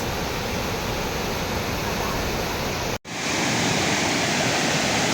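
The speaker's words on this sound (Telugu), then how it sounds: "ఇదే మా మినీ వాటర్ ఫాల్స్" A small village waterfall pours in a dense, steady roar of rushing water, loud and close, broken by a brief dropout before the rush resumes.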